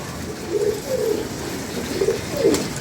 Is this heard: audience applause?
no